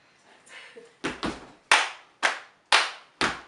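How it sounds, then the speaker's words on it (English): Stomping and clapping in a body-percussion rhythm: a soft lead-in, then seven sharp, close hits in a steady pattern, the first pair heavier and the rest crisp claps, with no talk. "Stomp, clap, stomp, stomp, stomp."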